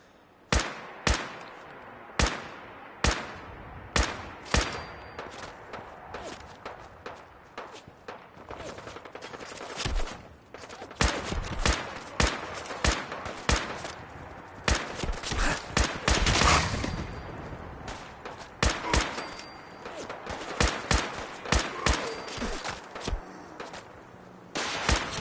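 Gunfire in Fallout 4 during a fight with super mutants: sharp, loud shots, spaced out at first, then quickening into dense rapid bursts and volleys over roughly twenty-five seconds.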